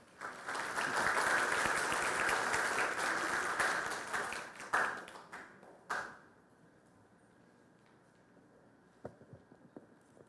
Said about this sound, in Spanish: Le brindamos un fuerte aplauso al doctor Valerdi Mujica